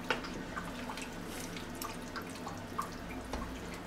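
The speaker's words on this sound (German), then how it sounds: "Das Wasser ist mittlerweile hier auch durchgelaufen, so ziemlich. Na, Tropf, Tropf." Water drips and trickles while a one-pot Western-style stew of tomatoes, beans and corn cooks, giving faint, scattered small plinks and splashes over a low steady background hum.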